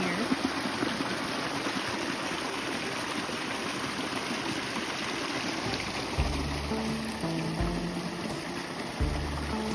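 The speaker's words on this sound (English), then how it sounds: "It's a really nice clean water going here." Clean stream water flowing steadily at Prescott Falls on a forest trail in Jennings State Forest, a continuous near rushing wash with low boat-like rumbles toward the end.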